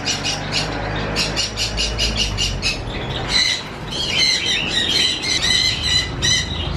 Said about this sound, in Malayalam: ജാവ പക്ഷികൾ.